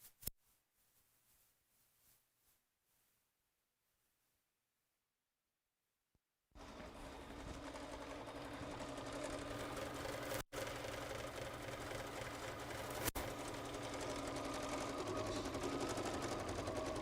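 A sewing machine stitches a lining piece on a dog-bone themed project, starting after a few quiet seconds with light handling noises and then running as a steady, continuous mechanical whir close by.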